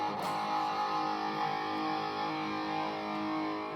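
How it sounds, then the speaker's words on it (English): An electric guitar riff plays at low bedroom volume through a hot-rodded Marshall tube amp, with sustained distorted chords ringing on steadily and nobody talking. "I'll quickly play just a quick riff here."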